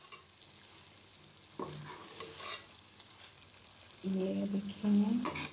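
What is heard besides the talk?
chicken being stir-fried in a pan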